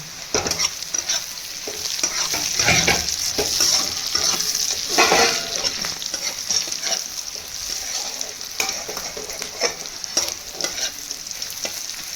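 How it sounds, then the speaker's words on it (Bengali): Steady sizzling of chopped green chillies and onions frying in a pan, with scraping stirs throughout; no voices. "এবার আমি কাঁচা লঙ্কা কুচিগুলো দিয়ে দেবো, দিয়ে আবার কিছুক্ষণ ভাজবো"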